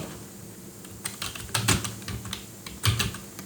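A git command is typed on a computer keyboard: close, quick key clicks in uneven bursts, with a couple of heavier presses standing out.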